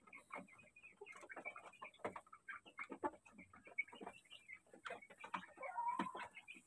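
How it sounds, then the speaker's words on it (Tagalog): Native chickens cluck in a busy run of short, repeated calls, fairly close and steady throughout, with other fowl sounds mixed in and no clear talk over them. "Yan yung una kong manok."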